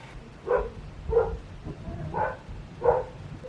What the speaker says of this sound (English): Will I have one video where my dog isn't barking?